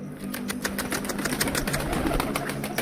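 A flock of pigeons gathered in a loft, with soft cooing and bursts of flapping wings over a busy, continuous background of rustling, and faint voices mixed in.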